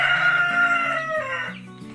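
A rooster crows loudly and close by, a long drawn-out call with other chickens calling alongside, no talking.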